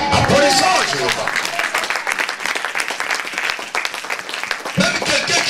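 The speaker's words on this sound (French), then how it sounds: "Applaudissons Jéhovah" Church congregation clapping for God at a French-language sermon, loud dense applause filling the room, with voices calling out over it and a speaking voice at the start and end.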